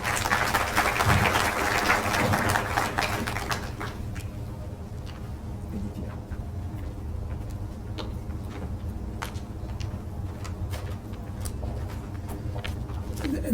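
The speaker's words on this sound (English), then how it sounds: "Let's give him another round of applause." Audience applause at a conference session, a dense wash of clapping that is loud for the first few seconds and then thins into scattered claps and murmurs over a room hum.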